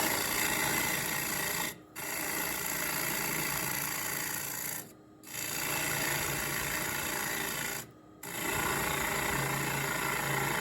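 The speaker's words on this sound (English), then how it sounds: "Now from here, I like to come in with a scraper instead of a gouge." A scraper shapes a kiln-dried wood bowl with a continuous dry, rasping scrape. The sound stops for three short gaps, then resumes at an even level.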